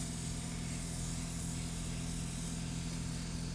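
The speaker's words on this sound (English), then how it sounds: "Spray the serum with the oxygen flow, or just spray the oxygen flow to infuse already existing serum." Steady hiss of an Oomnex oxygen gun spraying a continuous oxygen flow during a facial, even and unbroken throughout with a low hum beneath it.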